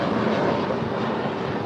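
A departing American Airlines jet climbs out of LAX bound for Phoenix, its engines giving a steady broadband roar that holds level throughout and sits close and loud, with no voices over it.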